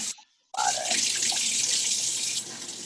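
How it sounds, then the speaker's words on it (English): Water is dumped out, then a tap runs steadily into a container at a wool dryer ball making class, loud and close, with a short pause before the strong, continuous flow. "My water's getting cold, so I'm going to dump mine out and get water."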